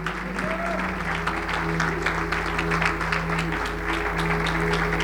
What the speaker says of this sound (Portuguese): Então eu convido a igreja a nos colocar em pé também e aplaudir ao Senhor pela vida deles